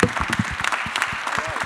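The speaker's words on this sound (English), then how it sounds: "let's give Keyvan a big round of applause" An audience claps at the close of an engineering lecture on the Purdue campus, a brisk, dense patter of many hands heard nearby.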